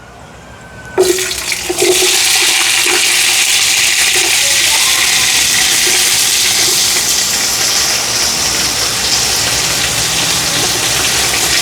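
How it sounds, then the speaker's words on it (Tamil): Onions dropped into hot oil in a pan for chicken korma, a sudden loud onset followed by a steady, broad hissing sizzle that holds strong and close throughout. "நான் வெங்காயம் தான் போட போகிறேன்"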